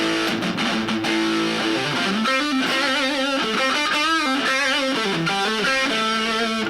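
Electric guitar with overdrive played through a LEKATO AG04 portable amp, a loud, continuous distorted riff with gritty sustained notes and bending, wavering pitches.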